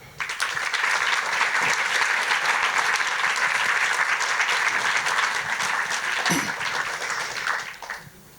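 A university thesis-contest audience in Fribourg applauds to welcome the jury president: sustained, dense clapping from a full hall, steady and loud for about seven seconds before fading quickly at the end.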